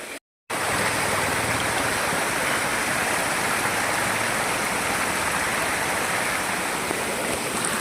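Waterfall at Lonavala roars in a steady, loud, continuous rush of falling water that starts abruptly after a brief gap and fills the scene, with no talking.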